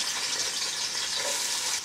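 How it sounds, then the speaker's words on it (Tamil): Onions sizzling and frying in a pan for mutton biryani, a steady bright crackle that holds evenly close by with no voices. "இதில் வந்து வெங்காயம் போட்டுக்கலாம்"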